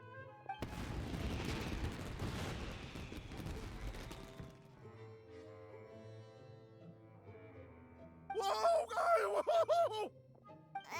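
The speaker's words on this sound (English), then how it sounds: "Yoimiya, this is turning into a bit of a fireworks display." Fireworks burst in Genshin Impact, a dense, loud crackling and booming barrage for several seconds, then fading into game music, followed by a rattling burst of sparkly crackles near the end.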